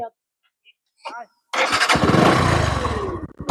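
A motorcycle engine cranks and fires up beside a canal, bursting in loud and close after a few short voices, then revving unevenly for a couple of seconds before easing off.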